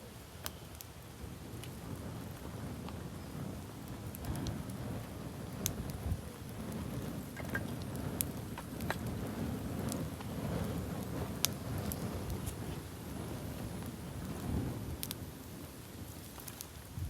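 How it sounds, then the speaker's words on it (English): Steady rain falling at a wild camping spot by a tarp shelter, a continuous soft patter with scattered sharper drips close by, even and unbroken throughout with no talking. "And the rain's just started as well."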